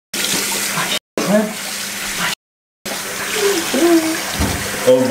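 Water from a tap runs steadily into a sink while someone washes their eyes after eating very spicy noodles, with brief cut-off gaps and voices talking over the flow.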